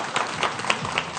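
A studio audience claps on a Pakistani television talk show, a short burst of loose, uneven hand claps with a few distinct sharp hits over a soft crowd murmur.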